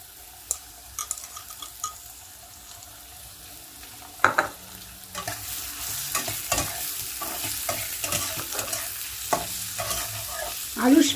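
Soaked, drained moong dal fried with potatoes in a pan for a Bengali ridge gourd dish, a soft steady sizzle with intermittent scraping stirs of a spatula that grow busier toward the end, close and without talk.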